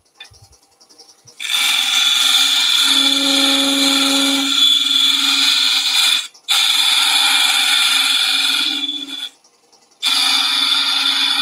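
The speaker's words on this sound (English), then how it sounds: "I'm just going to side scrape around that curve." A wood lathe whines steadily as a scraper side-cuts a curve on a banksia nut and epoxy resin vase. The loud, continuous cutting drone starts after a short quiet and breaks off briefly twice.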